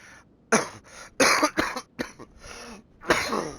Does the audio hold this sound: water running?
no